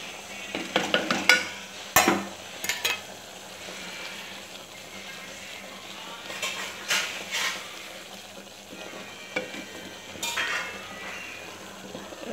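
Rajma and potato gravy being stirred and sautéed in a pan after spice powders go into the cooked-down tomato, with scraping and clinking spoon strokes in bursts over a faint sizzle.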